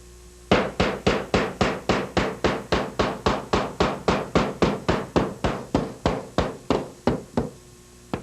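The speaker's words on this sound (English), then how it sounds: "flipping it over once again to the front side and hammering out our openings" A hammer knocks out openings in cement tile backer board, around two dozen sharp, evenly spaced blows in a steady, fast rhythm, loud and close with no talking.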